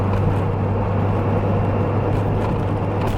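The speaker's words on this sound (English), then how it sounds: "You have that V8 sound." Lotus Esprit twin-turbo V8 engine drones steadily while driving, a continuous low hum heard from inside the car, even and unbroken, with no voices.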